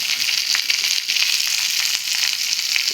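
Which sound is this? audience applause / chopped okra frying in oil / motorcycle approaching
chopped okra frying in oil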